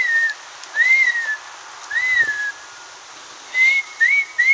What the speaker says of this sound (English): They really respond to a whistle.